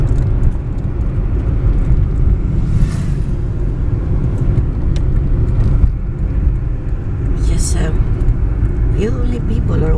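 Light traffic on a quiet city street during a lockdown, with a steady low road rumble and a few cars passing at moderate distance across the stretch, with no voices.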